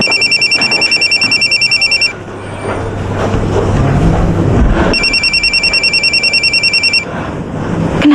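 A telephone rings loudly in bursts of rapid electronic trilling, two long ringing spells separated by a pause filled with low background sound.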